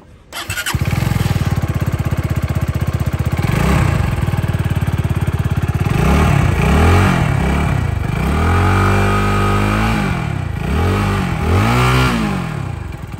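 A Malaguti Drakon 125 motorcycle starts up, then rides on a road. The engine revs up and down in repeated rising and falling sweeps, loud and close, with no talk over it.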